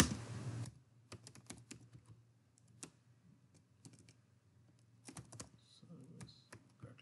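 Keystrokes on a computer keyboard come in irregular bursts and scattered single clicks, close and fairly quiet, during a software form demo, with a brief loud sound at the very start.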